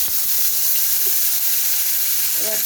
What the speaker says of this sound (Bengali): এই তেলটার মধ্যেই আমি এখন আলুগুলো দিয়ে দেবো একটু।